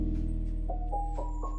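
A coin sound effect from the Scratch sound library, a few quick bright chiming blips rising in pitch, heard over a steady low background hum.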